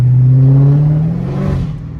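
A car engine revs hard while the car drifts and spins on a cold road, heard through an open sunroof as a loud, close roar that rises in pitch and then falls away over two seconds.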